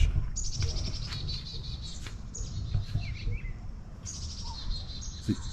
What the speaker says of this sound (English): It's called a song sparrow.